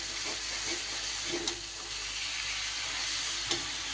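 Cabbage being stirred into spices in a pan for a vegetarian dish, a steady hiss of frying steam with a few soft spatula knocks and scrapes at intervals, close and even, without speech.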